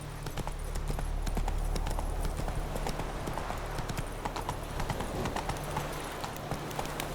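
Roach, the horse in The Witcher 3, gallops in a fast, even run of hoofbeats that carries on continuously over a low rumbling game ambience, close and prominent.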